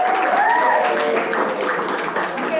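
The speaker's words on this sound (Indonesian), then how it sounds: "Ya, kasih aplaus dulu." A classroom of students applauds selected student groups, with dense clapping that holds steady throughout and a voice audible over it.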